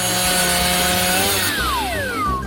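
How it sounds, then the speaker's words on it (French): A hand saw cuts through waffles with a continuous close rasping scrape, loud and steady, its tone shifting and sliding partway through, with no talk. "Maintenant, je vais couper ces gaufres."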